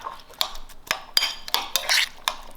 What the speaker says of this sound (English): we're going to stir that all around with the lobster